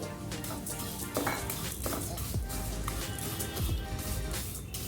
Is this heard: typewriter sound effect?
no